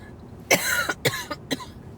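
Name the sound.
cough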